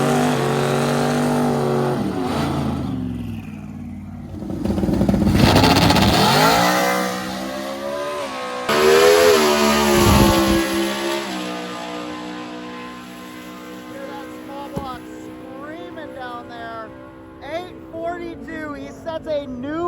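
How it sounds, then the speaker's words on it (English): Impound-class drag race cars roar and rev hard on a drag strip, engine pitch climbing and sweeping as they launch and pull away, with a commentator talking over the noise. "We've got a couple of our impound cars up right now."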